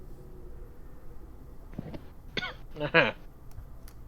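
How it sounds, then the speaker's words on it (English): A man with a developing cold clears his throat and coughs in a few harsh, close bursts, then a stronger hacking cough, against a quiet background. "coughing up a lung"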